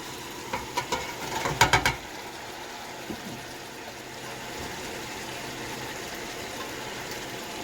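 Holy Trinity vegetables tumble into hot seasoned oil left from browned meat for Louisiana red beans and rice: a quick clatter of pieces landing, then a steady, soft sizzle carrying on underneath.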